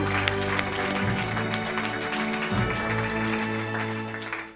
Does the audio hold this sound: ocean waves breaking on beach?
no